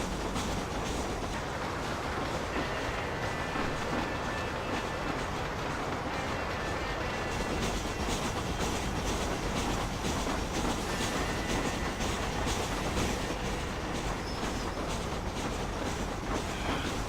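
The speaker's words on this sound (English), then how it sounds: "I hear the train coming." Train rolling past in the Red Dead Redemption video game, a steady dense rumble with clickety-clack wheel noise and faint squeals, moderately loud and continuous throughout.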